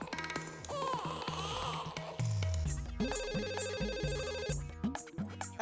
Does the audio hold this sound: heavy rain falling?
no